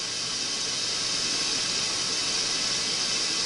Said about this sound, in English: now you hear a little bit of sizzle around it